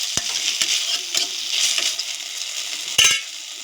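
Spinach lightly frying in a pot for khichuri, a bright hiss of frying with a few sharp utensil taps and one louder clank near the end, no talking.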